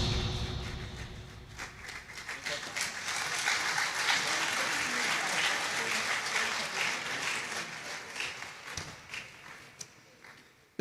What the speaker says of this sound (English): We can do better with the applause.